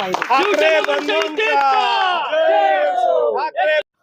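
A crowd cheers and chants loudly at a Shiv Sena–MNS alliance celebration in ward 3 in Mumbai, giving a dense, close roar of voices in bursts, with shouted slogans and some clapping before it stops abruptly.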